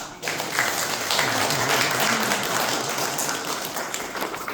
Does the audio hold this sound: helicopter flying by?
no